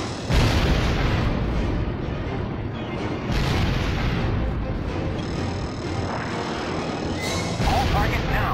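Quick anti-aircraft missiles fire and explode in Ace Combat X², a loud, dense barrage of roaring launches and booms that runs continuously over steady engine rumble.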